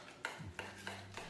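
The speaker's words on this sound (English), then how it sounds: "And I'm going to mix this" A metal utensil clinks against a bowl while stirring salt and pepper into a mixture, four sharp, evenly spaced taps over a quiet background with no speech.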